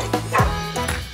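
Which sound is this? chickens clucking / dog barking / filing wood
dog barking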